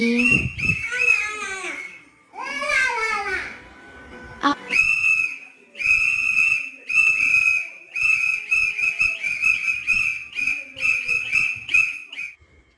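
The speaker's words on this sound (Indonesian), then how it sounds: "Peluit adalah alat komunikasi berukuran kecil terbuat dari plastik yang mengeluarkan suara nyaring ketika ditiup" A shrill plastic whistle is blown repeatedly, with warbling trills at first and then a run of sharp, evenly spaced blasts, loud and close.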